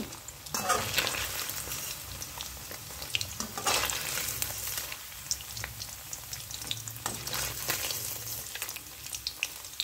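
Paneer pieces fry in oil, giving a crackling, bubbling sizzle that surges and eases as they are stirred and turned with a utensil, heard up close and free of talk.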